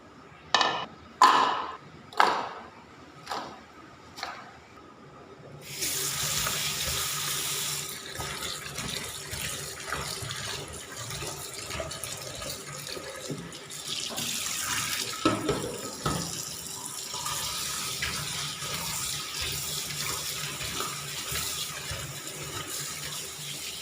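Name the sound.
washing peeled garlic under running tap water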